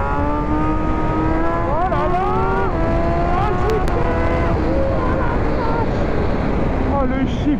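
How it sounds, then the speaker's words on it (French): A 2016 Suzuki GSX-S1000 motorcycle accelerates hard in second gear, its engine note rising and falling steadily under constant wind rush, with a voice talking over the ride. "Accélération en deuxième."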